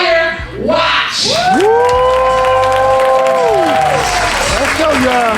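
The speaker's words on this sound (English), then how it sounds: "we're going to clap it up for Trenton Fire Watch" Crowd applauding and cheering for Trenton Fire Watch, steady loud clapping mixed with whoops and shouting voices throughout, with a voice calling out over the noise.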